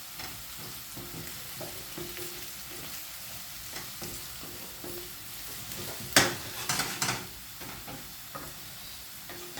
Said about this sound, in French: Donc là on est en train de faire cuire notre pomme de terre.